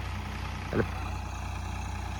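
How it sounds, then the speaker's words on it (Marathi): Steady low engine hum of a tractor idling nearby on a farm at soybean sowing time, with a brief knock partway through. "ट्रॅक्टर आला आहे"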